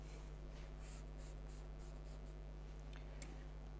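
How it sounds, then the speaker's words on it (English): Faint chalk or marker strokes scratch across a classroom board during a plant respiration biology lesson, soft intermittent scrapes over a steady low electrical hum, no voice. "Let me write properly."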